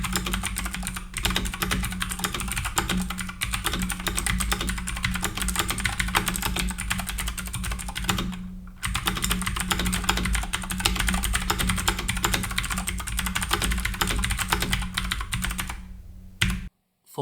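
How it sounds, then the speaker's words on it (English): Fast continuous typing on a Keychron K4 v2 keyboard fitted with clicky blue switches, loud and close, a steady dense patter of sharp clicks with two brief pauses, alone without voices. "The unit that I've got here today has the Keychron blue switches inside, and these are very clicky, they're very clacky"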